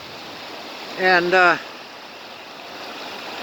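Floodwater after heavy rain rushes under a bridge at about seven feet deep, a steady broad roar throughout, briefly under a man's single spoken word.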